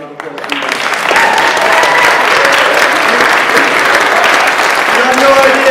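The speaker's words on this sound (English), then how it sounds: "give a round of applause" Theatre audience applauding after a Westminster Macbeth performance, a dense, steady clatter of many hands that swells within the first second and holds loud throughout, with faint voices mixed in.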